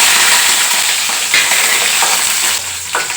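Garlic and chickpeas fry in hot oil, a steady loud hiss and crackle with faint scraping as the pan is stirred, no voices.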